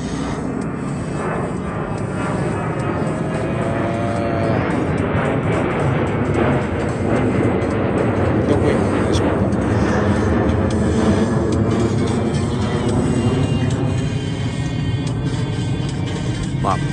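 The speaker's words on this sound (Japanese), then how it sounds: "飛行機が飛んでいきますね。" A jet airplane passes overhead with a broad roar that swells gradually and then eases, while a voice speaks faintly beneath it.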